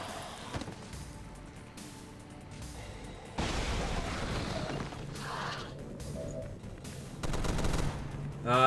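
Gunfire during a firefight in XCOM: War of the Chosen, with bursts of automatic shots and impacts breaking out midway and again near the end over quieter ambient game sounds.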